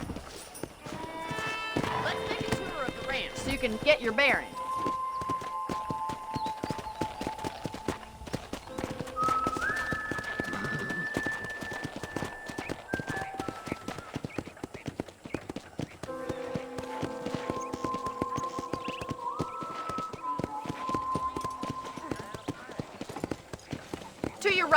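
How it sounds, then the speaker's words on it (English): Steady hoofbeats from a ridden horse on a Red Dead Redemption ranch tour, clopping continuously beneath a conversation in the foreground, with a whinny heard now and then. "let's see if you can still ride a horse."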